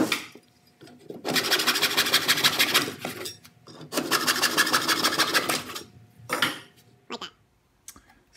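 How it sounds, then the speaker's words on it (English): A hacksaw rasps back and forth through wooden doweling in two long sawing bursts with a brief pause between, followed by a shorter stroke and a few small knocks, close and fairly loud. "So we're just going to cut that with a hacksaw."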